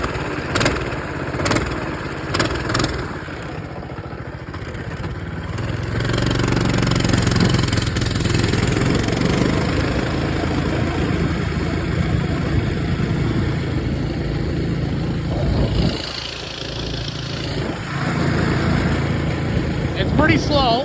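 A blown-engine marketplace minibike runs steadily through a ride, a continuous mid-pitched engine drone that swells a little partway through. Some talk may sit faintly underneath.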